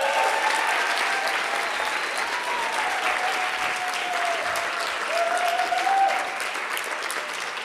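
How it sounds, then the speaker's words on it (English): Audience at a morning creative talk in New York applauding the speaker, Meg Lewis, with sustained, even clapping that holds steady and eases slightly toward the end, a faint voice tone threading beneath it. "Can we give another round of applause?"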